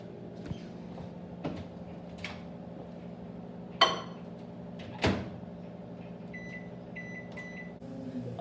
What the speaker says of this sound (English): and then we're going to put that in the microwave.